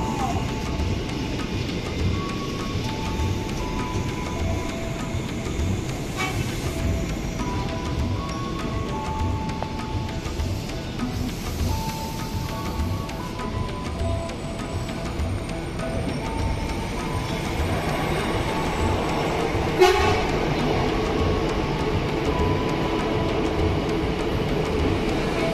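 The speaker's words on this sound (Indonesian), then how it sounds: "Jalan 3 atensi KA Bandara melintas langsung." An airport rail link train runs straight through a station on track 3 without stopping, a steady loud rumble of wheels and carriages that holds for the whole stretch, with a brief sharp knock near the end.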